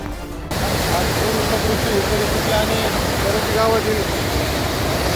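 Floodwater after a cloudburst in Pathardi rushes through a largely washed-out area where a building stands fully submerged. A loud, steady roar of churning water begins abruptly and continues without a break, with faint voices underneath.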